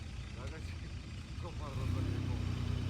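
Off-road car engine rumbling and then revving up with a rising steady drone near the end, while people talk over it in the cab.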